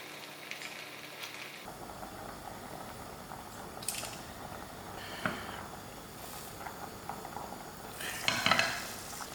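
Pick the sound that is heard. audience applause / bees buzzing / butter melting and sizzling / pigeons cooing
butter melting and sizzling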